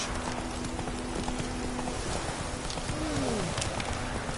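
Roach, Geralt's horse in The Witcher 3, clip-clops along at an easy walk with steady hoof beats over a constant ambient bed, with faint bird coos and a short tonal call in the background.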